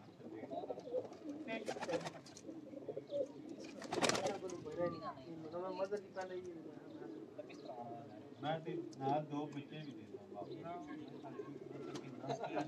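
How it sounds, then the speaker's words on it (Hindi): Teddy pigeons coo softly and repeatedly, their low rolling calls woven under steady talk from people nearby. "ये जी टेडी कबूतर"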